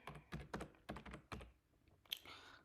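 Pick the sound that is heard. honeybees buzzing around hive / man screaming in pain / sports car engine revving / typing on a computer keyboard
typing on a computer keyboard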